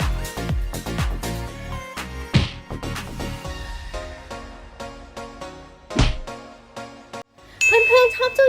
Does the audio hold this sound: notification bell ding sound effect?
yes